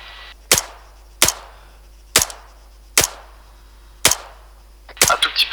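Gunshots in the military shooter Arma 3 on the island of Altis, with five sharp, loud reports spaced about a second apart, then a quick cluster of shots at the end over a quiet background.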